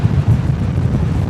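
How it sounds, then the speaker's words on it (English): Wind gusting across a microphone at Brisbane Airport, a loud, continuous low rumble with uneven buffeting and no voices. "The wind has just picked up again."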